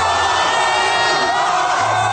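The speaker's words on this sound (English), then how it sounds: "Cheering." A huge crowd of Seahawks fans cheers in Seattle, a loud, continuous roar of shouting and whooping that fills the whole stretch.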